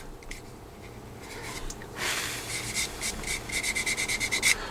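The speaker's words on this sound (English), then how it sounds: "we've got to sand in and around it" Sandpaper rubbing across a plastic 1/48 Tamiya Supermarine Spitfire Mk.I scale model, close and soft, starting as faint scratching and building into a steady run of short rhythmic back-and-forth strokes near the end.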